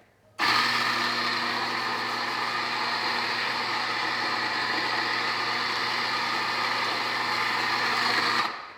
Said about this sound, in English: I actually gotta change the size to espresso grind. Let's put this right here, and it's gonna get loud